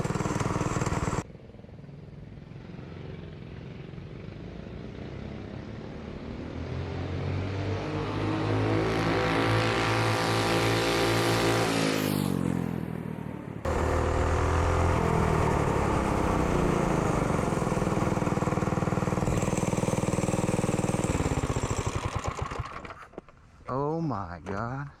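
A drift kart's Predator engine, fitted with a new carburetor, revs loud and close, its pitch climbing and falling in repeated sweeps before cutting back near the end.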